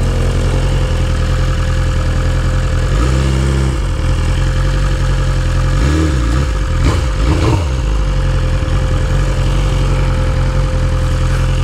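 A BMW S1000RR motorcycle engine idles loudly and steadily, broken by a few short revs in the middle stretch before it settles back to idle, with no talking.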